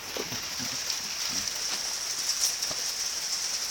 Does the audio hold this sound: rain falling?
yes